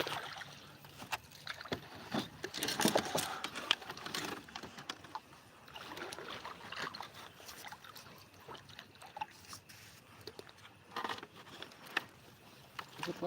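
Paddles dip and pull through water from a small rowing boat, quiet, irregular splashes and drips running steadily throughout, with faint rustling close by.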